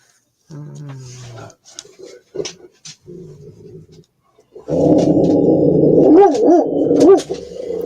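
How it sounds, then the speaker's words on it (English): A worked-up dog barks and growls near a lake, with throaty vocal bursts early on, then a loud sustained stretch of rough, rising and falling barks and yowls. "Didn't mean to get your dog all worked up."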